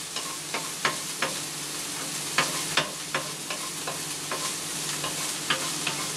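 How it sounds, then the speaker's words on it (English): Onion frying in sesame oil over low to medium heat, stirred with repeated scraping strokes in a steady rhythm over a constant close sizzle, with no voices. "we're going to start mixing it right away, because we don't want it to burn"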